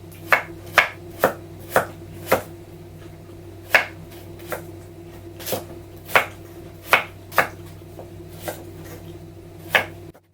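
A kitchen knife chops dongchimi radish on a cutting board, sounding as sharp, close knocks at an irregular, unhurried pace, roughly one to two per second, with no talk over them.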